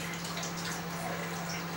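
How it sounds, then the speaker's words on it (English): Coconut water pouring from an opened coconut into a jug, a faint, steady trickle and splash under a low constant hum, with no voices. "You start to see that it pours into the jug."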